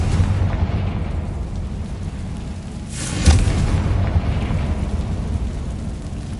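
A Confringo spell blast in Hogwarts Legacy on PS5: one loud boom near the middle, trailing into a rumbling decay over a steady low game-ambience bed.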